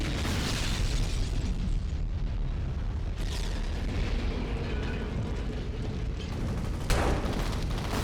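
Explosions in the shooter game F.E.A.R., a dense rumbling barrage of booms and bursts that is loud and continuous, with sharp blasts cutting through around the middle and near the end.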